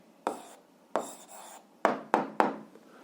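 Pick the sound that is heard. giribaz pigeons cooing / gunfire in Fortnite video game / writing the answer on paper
writing the answer on paper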